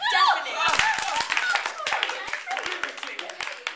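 An audience claps after a stage performance at a period show, a lively burst of close, crisp handclaps that thins out, with voices and a snicker mixed in.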